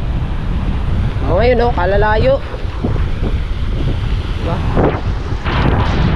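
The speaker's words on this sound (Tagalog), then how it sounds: "baka malakas ang alon, tsaka agos. May bagyo ngayon, may bagyo." Strong wind and surf during a storm at sea roar steadily and close throughout, with a brief burst of voices partway through and a person speaking over the rushing noise.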